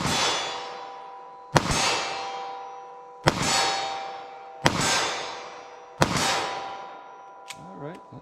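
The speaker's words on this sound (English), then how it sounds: "I want to see how these will shoot for me from 25 yards. 380 ACP." Four sharp pistol shots from a compact handgun firing .380 ACP Buffalo Bore jacketed hollow-point ammunition at 25 yards, evenly spaced about 1.5 seconds apart, each with a ringing tail, followed by a faint high metallic ping.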